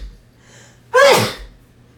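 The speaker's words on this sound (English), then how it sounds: "Every time she sneezes, it just terrifies me." A cat sneezes once, a short, loud, sharp burst close to the microphone against an otherwise quiet room.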